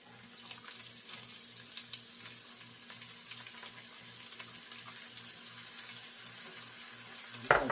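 Onions frying in a pan for curry grouper fish head, a soft steady sizzle with a faint rhythmic pulsing hum beneath and a clatter at the end.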